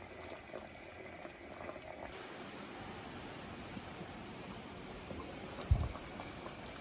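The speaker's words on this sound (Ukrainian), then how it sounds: "а у мене на кухні булькають огірочки в томатному соусі" A soft, steady bubbling and simmering of cucumbers in thick tomato sauce in a covered pan over moderate heat, with one brief knock near the end.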